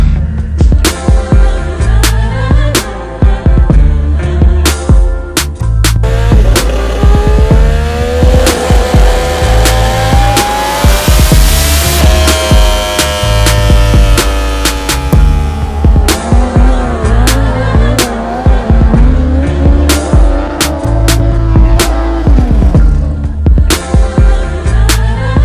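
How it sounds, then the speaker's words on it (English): Turbocharged Triumph Street Triple drift motorcycle, its Garrett turbo engine revving hard and continuously, rising and falling in pitch with sharp throttle blips, loud and close with possible tire squeal mixed in. "this bike, which is the Triumph Street Triple, which is the last drift bike from our Motorcycle vs. Drift Battle 4, is basically a Garrett turbo strapped on a bike"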